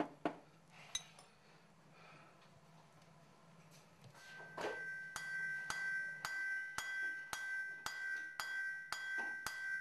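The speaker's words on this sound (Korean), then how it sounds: "쇠망치로 두드려 은으로 판을 만들고" An iron hammer beats pure silver into a sheet during traditional silver knife making, giving sharp metallic strikes that grow into a steady, evenly spaced ringing rhythm, moderately near.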